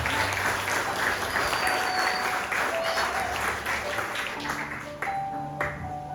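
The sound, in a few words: congregation applause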